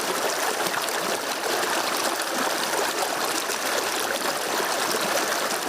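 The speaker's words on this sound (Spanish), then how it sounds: "¿Qué le pasa a esta quebrada con un intenso verano? Se seca. Prácticamente aquí no baja nada. Baja un milito." A small Colombian mountain stream, nearly dry after a hot summer, trickles and babbles in a steady, close wash of water with no voices.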